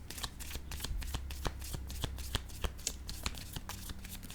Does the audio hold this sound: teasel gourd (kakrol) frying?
no